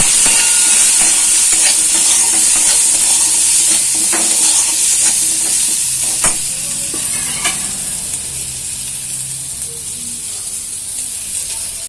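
Chilies fry in a pan with a loud, hissing sizzle and occasional stirring clicks, and the hiss eases gradually toward the end.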